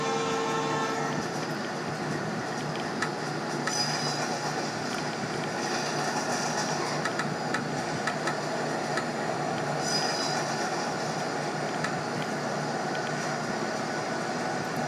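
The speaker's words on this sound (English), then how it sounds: "Angry Conrail noises." Conrail train sounds in the Trainz railroad simulator game: a steady, loud rumble of rolling rail cars and wheels, continuous throughout with faint squeals, and no talking.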